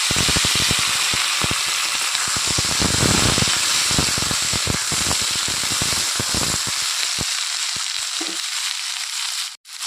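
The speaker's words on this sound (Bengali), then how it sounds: "তেল গরম হয়ে গেছে দিয়ে দিচ্ছি একটা তেজপাতা কালো জিরে দিয়ে দিচ্ছি কেটে রাখা দেখি আলু টমেটো" Bay leaf, black cumin, potato and tomato hitting hot mustard oil, with a loud, dense sizzle and crackle that settles into a steady hiss and fades near the end.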